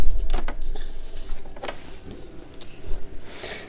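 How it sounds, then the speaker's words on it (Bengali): A knife chopping fresh spring onion leaves on a board, several crisp, uneven cuts with light clinks, fairly close against a quiet kitchen background. "তো এখানে আমি পেঁয়াজ পাতাটা এখন কেটে নিব"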